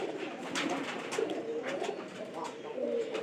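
Pigeons coo steadily in a nest box, several birds overlapping in low throaty calls close by with a constant rustling background, no talk.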